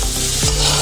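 Chopped onion hits a hot pan for chicken soup, giving a loud, steady, close sizzle that fills the whole short moment without any voices.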